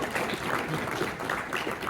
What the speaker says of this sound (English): think we need a round of applause to everyone that stepped up to be a partner